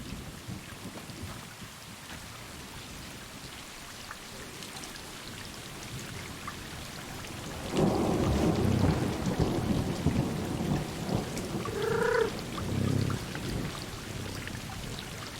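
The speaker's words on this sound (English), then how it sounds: "It's raining." Rain falls steadily in the video game Stray, a continuous hiss, joined midway by a loud rolling thunder rumble that swells and lingers, with a brief cat-like cry near the end.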